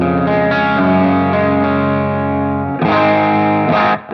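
Electric guitar through a Source Audio Ventris pedal set to room reverb with no pre-delay, a sustained distorted chord ringing loud and alone, then a fresh strum near the end.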